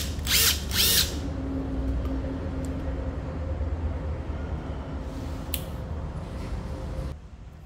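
A Makita TD171 cordless impact driver in a plum-red finish, tested with no load, gives two short loud whirring bursts, then a long lower steady run that stops abruptly near the end.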